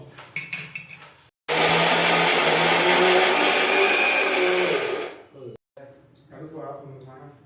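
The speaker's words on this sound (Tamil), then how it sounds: "இப்போ நம்ம இதை வந்து அரைக்க போகிறோம்" A kitchen mixer grinder whirs loudly for about four seconds grinding grated carrot, a dense steady roar starting and stopping abruptly, with a person talking briefly before and after.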